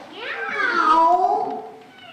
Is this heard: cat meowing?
yes